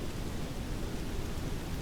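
Heavy rain falls on airport tarmac at Ibiza in a flight simulator, a dense, steady hiss of downpour with no pauses.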